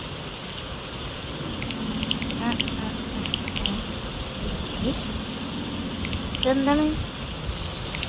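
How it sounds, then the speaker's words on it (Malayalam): Rain falls in a crafting video game, a steady, even hiss of drops that runs through the whole stretch while a person speaks over it. "നല്ല മഴയാണ്"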